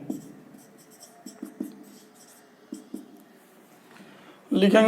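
Writing on a board during a math class on determinants gives a string of soft scratches and taps in uneven bursts. A voice breaks in loudly at the very end.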